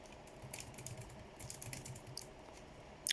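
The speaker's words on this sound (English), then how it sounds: "This keyboard is tricky to use." Keys clatter on a 2008 ThinkPad T61 laptop keyboard in short, faint bursts of clicks with pauses between, ending in a sharper cluster of taps close by.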